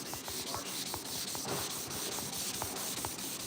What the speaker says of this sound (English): We're final sanding the front bumper.